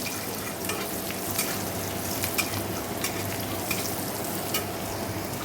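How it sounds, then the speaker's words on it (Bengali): Onions frying in a home kitchen give a steady, even sizzle throughout, with occasional light stirring clicks and no talking. "এখানে পেঁয়াজ ভাজছি"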